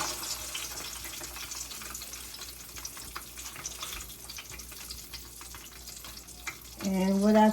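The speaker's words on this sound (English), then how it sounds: "Now I'm gonna drop it in. So this is a shallow. I'm shallow frying it." Coated food shallow frying in hot oil, a steady loud sizzle and crackle running throughout, with a voice speaking briefly at the very end.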